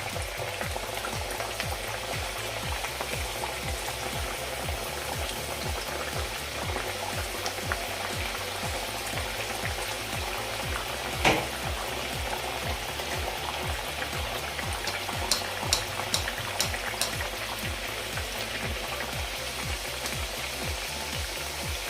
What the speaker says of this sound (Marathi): आता यामध्ये आपण मटरी फ्राय करून घेऊया तेलामध्ये मावतील एवढंच आपण मटरी यामध्ये घालणार आहोत